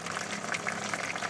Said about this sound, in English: It'll drip into the next tray.